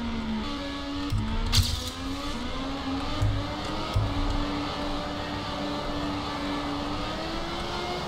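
Race car engines whine in a track racing video game, a sustained droning tone that gradually rises in pitch with steady acceleration, plus a few brief knocks and bumps early on, continuous and moderately loud.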